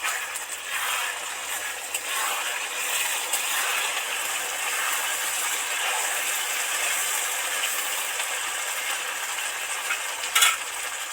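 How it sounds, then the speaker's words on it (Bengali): Spices frying in a pan for a mutton curry, a steady broad hiss that runs the whole time at moderate level, with faint scraping and a brief clatter near the end, no talking. "তো মশলাটা ভাজা হতেই থাকছে"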